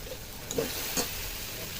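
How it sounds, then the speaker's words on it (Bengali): Ground cumin and turmeric masala frying in oil for chana masala, a steady soft sizzle with two or three spatula scrapes, close and quiet, no voices. "যতক্ষণ তেল না ছাড়ছে মশলাটাকে কষিয়ে নেবো"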